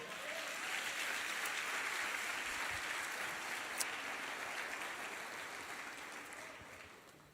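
Steady applause from a church congregation, sustained for several seconds and slowly fading toward the end.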